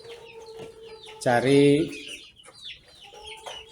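Free-range kampung chickens and a rooster on a small Indonesian poultry farm give one loud, drawn-out squawking cluck amid fainter clucks nearby, with quiet talk in the background.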